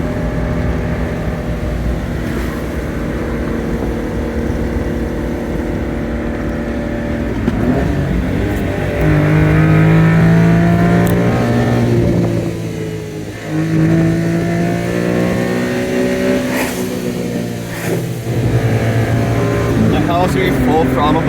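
A small Honda Beat car accelerates at full throttle along Skyline Boulevard behind a minivan, its engine note climbing steadily through rising pitch sweeps with a gear change midway, heard from inside the cabin as people talk over it.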